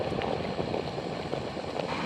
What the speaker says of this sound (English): So it's been boiling for about a minute.